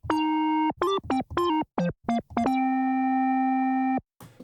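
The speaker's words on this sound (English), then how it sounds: "Next, I went looking for some good lead sound and I found this one." A synth lead patch from Maschine plays a short melodic phrase of stepped, bright harmonic notes, several quick staccato notes between two long held tones, loud and alone with no talking.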